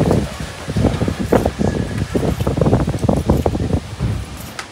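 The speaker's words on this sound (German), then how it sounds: "Bro, was mit dem Wind heute" Gusty wind blows along Simon-Dach-Straße in Berlin Friedrichshain, a loud, continuous rumbling buffet that roars across the microphone for the whole stretch.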